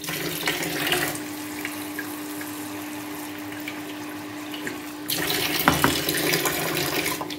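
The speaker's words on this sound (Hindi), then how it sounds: "अब इसमें पानी जो है वो डालेंगे थोड़ा सा" Tap water poured over fresh mint leaves to wash them, a steady close trickle that turns into a stronger splashing stream toward the end, with no talk.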